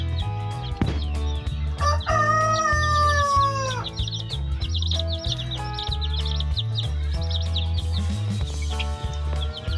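Chickens on a Thai egg-laying farm with Leghorn birds cluck steadily up close, while a rooster lets out a loud drawn-out crow early on and more calls overlap throughout.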